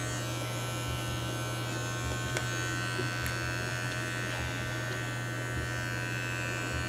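Electric clippers grooming the face of a silver Mini Goldendoodle puppy give a steady, close, loud buzzing hum that runs unbroken from start to finish, with no speech.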